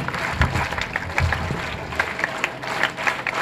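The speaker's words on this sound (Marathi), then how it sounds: "मग हिच्या टीचरसाठी एकदा जोरदार टाळ्या वाजवा." An audience claps for a teacher at an educational guidance event, a dense wash of hands clapping together that stays steady and fairly loud over a few seconds.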